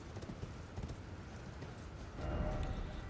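Horse hooves clip-clop steadily in Elden Ring, a muffled, even galloping rhythm close by that holds for about three seconds with no talk over it.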